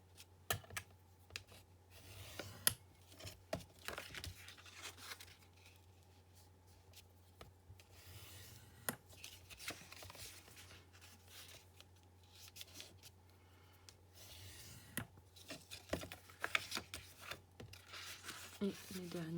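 Fold lines being creased into cardboard on a scoring board while making a box, heard as quiet scraping and rubbing strokes repeated in short bursts, with soft taps between them and a low steady hum underneath.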